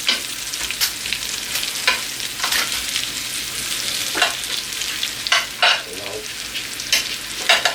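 Potatoes are tossed and stirred through seasoned oil for roasting, making repeated bursts of clattering and scraping over a soft sizzle, close and fairly loud, with no one talking.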